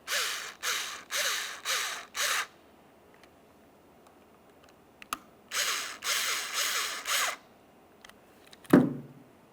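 Ratcheting or power-driver bursts tighten two mounting bolts into plastic on a 2012-2015 Honda Civic power mirror switch, in a close group of short whirring runs, a pause, then a second group followed by a sharp knock.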